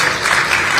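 A short burst of steady applause from the audience at a county investment conference closing ceremony, honouring the panelists, fills the room as dense, even clapping with no voices on top.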